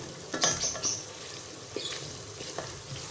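Ridge gourd and soft red tomatoes being stir-fried in a pan, a quiet steady sizzle with a few brief spatula scrapes and metallic clinks, no voices present.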